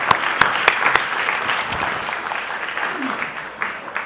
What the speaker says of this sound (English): please join me to have a big round of applause to welcome Jacques deLisle onto the stage